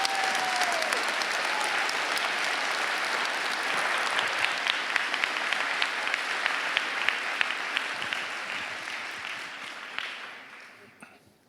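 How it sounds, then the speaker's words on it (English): Sustained applause from a town hall rally audience in Rockville, Maryland, steady and dense for about ten seconds before fading out near the end. "you can give me a little round of applause"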